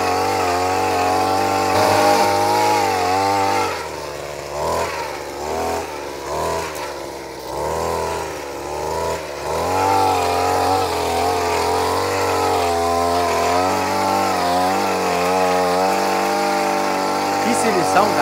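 A motorized mechanical mule cart works its way through a coffee field, its small engine droning and revving unevenly throughout, with people talking over it.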